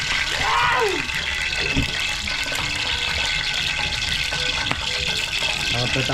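Water gushes steadily into a pot while Batangas lomi is being cooked, a loud continuous pouring rush that runs throughout, with brief voices and clinks in the background.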